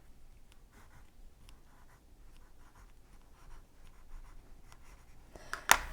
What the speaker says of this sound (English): And then I draw broken lines to remind me this is the stitch line.